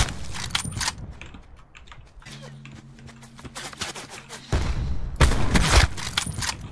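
Gunfire in Call of Duty: Black Ops 4 Blackout comes in sharp, rapid bursts, a cluster early on and a heavier run near the end, with quieter stretches and a low tone between them.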